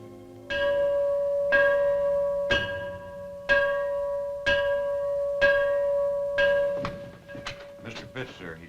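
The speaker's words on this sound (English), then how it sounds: "Now it's time the old bell tolled again" An old bell tolls steadily, roughly once a second, each ringing stroke sustaining a bright pure tone that carries into the next, before the tolling fades into softer clatter at the end.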